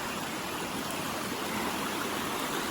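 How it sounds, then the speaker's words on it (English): A river crossed on a long-distance hiking trail rushes and hisses continuously, a close, dense wash of flowing water with no pauses and no voices. "We cross over this river,"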